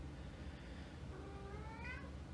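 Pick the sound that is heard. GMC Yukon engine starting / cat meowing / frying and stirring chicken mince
cat meowing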